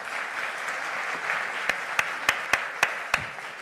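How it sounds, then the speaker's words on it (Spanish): Audience applause rising and steady, with several louder, sharper claps near the end, at a children's presidential debate event. "Por favor, un fuerte aplauso."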